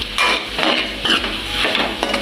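A spatula stirs chicken sausage fried rice in a hot pan, scraping and sizzling in a quick repeating rhythm, close and fairly loud, with no talking.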